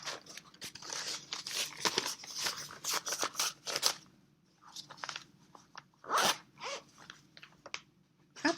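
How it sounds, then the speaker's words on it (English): An envelope is handled close up, giving quiet, continuous rustling and crinkling paper scrapes with short sharp crackles. The sounds are heard alone, with brief pauses between them. "Let me put this back in the envelope."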